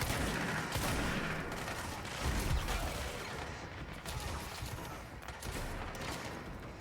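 Steady gunfire from the action game Control, dense overlapping shots running throughout under a busy game soundscape, with no talk.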